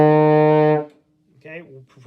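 Baritone horn holds a single steady D fingered with valves 1 and 2, a warm, full brass tone lasting under a second before fading, followed by a short spoken phrase.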